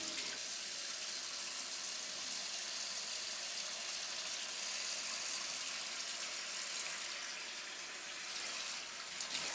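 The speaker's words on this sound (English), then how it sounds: "turn our hot water on." Hot water streams from a kitchen tap into a plugged sink, a steady, fairly quiet hiss of running water that continues unbroken with only slight changes in flow near the end.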